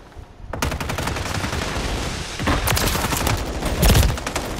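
Rapid gunfire in a Call of Duty multiplayer match, loud overlapping bursts of automatic fire from several directions with a heavier boom near the end, continuous for several seconds.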